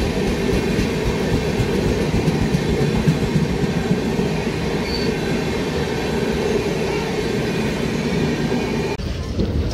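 Godavari Express train pulling out of Moula Ali railway station, heard from on board: a steady, loud rumble of wheels and carriage noise with faint rhythmic clatter, continuous throughout.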